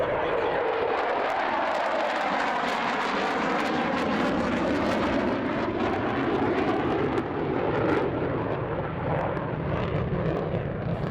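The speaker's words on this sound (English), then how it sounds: "these two airplanes that are close together will set up for landing" At a military airshow, two propeller airplanes setting up for landing drone steadily overhead for the whole stretch, a loud sustained engine roar with faint crowd murmur beneath.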